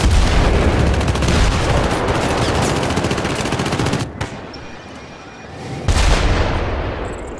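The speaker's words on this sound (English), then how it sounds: "I wish they would shoot less rockets at us" Dense enemy gunfire and rocket blasts pound away in a co-op firefight in the Syndicate video game. The loud, continuous automatic shooting stops briefly, then a fresh burst of fire and explosions erupts up close.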